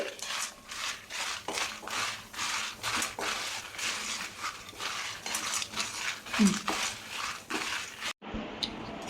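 Two tablespoons of cumin seeds roasting in a pan with other ingredients for moringa leaf powder are stirred with a spoon, giving quiet, rhythmic scraping and rustling strokes repeated at a steady pace.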